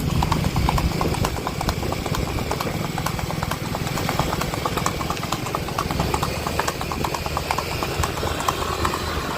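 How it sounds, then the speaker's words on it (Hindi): Steady, rhythmic clip-clop of a Sindhi horse's hooves on a hard surface as it is led around in circles in Anjar, Kutch, continuous and fairly close, with a low engine-like hum in the background. "अभी स्टार्ट कर दिया है कासम भाई ने घोड़े को फिर से घुमाने का।"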